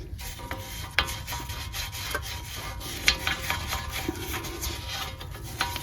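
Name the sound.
wire brush cleaning inside a Tiguan wheel hub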